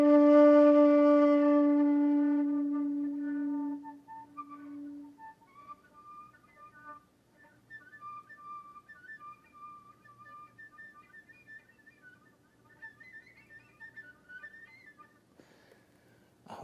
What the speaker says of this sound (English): I'm just going to try to go for the whistle tones